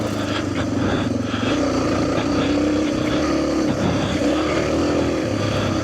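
A Suzuki DRZ250 motorcycle being ridden on the Kelly Loop, its engine a steady, loud drone with continuous wind rush and no clear breaks.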